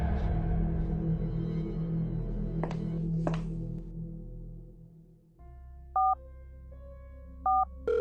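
A low drone fades out, then two short bursts of telephone dial tones sound with a steady hum between them, with no talking.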